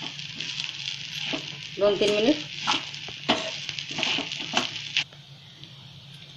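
Sabudana khichdi is stirred in a sizzling pan, with scraping strokes that come in irregular bursts over a steady frying hiss. A voice speaks briefly near the middle.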